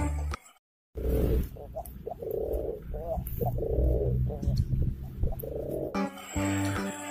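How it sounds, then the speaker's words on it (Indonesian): A pair of pigeons, male and female, cooing in repeated soft throaty phrases, close and fairly loud, with a brief dropout near the start and other sounds at the end. "ada sepasang burung merpati. Yang ini merpati jantan, yang ini merpati betina."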